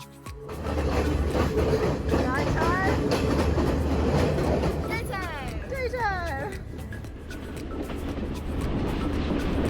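A train rolls through jungles and villages in Sri Lanka with a steady, loud rumble and clatter of wheels, while birds chirp briefly in the middle.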